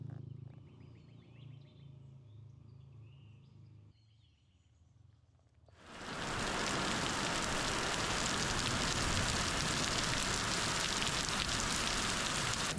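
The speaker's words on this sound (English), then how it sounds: "Well, that escalated quickly. We had a downpour." After a few quiet seconds of faint outdoor ambience, a heavy downpour abruptly starts and roars steadily and loudly to the end.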